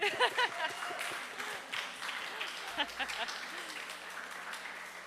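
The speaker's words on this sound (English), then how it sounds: "will you please stand up so we can clap for you?" Applause from a church congregation at a meeting, honoring committee and team members who stand, with a voice speaking over the clapping and scattered cheers in a room.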